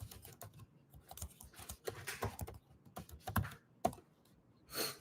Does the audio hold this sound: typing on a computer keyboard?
yes